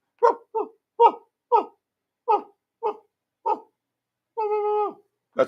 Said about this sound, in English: we know what the dogs that live across the field sound like